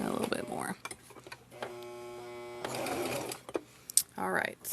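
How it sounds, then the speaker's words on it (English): A sewing machine stitching a small messenger bag runs in a steady mechanical whir for about a second, with someone talking before and after. "So I'm going to sew up to that point and then do some back stitching."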